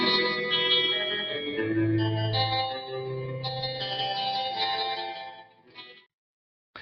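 A song plays as a dense, reverb-heavy band mix with sustained tones and a low bass swell, steady and loud for about six seconds before cutting out abruptly.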